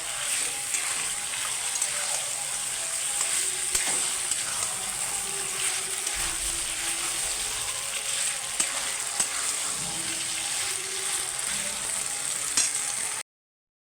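Chicken pieces with green chilli and black pepper fry steadily in a pan, a loud continuous sizzle broken by occasional scraping stirs, with no one talking.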